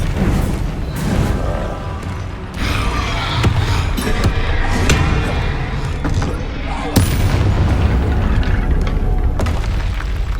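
Explosive spells cast during combat in Hogwarts Legacy, with repeated heavy booms and blasts layered over game music and effects, while a voice shouts spell incantations throughout.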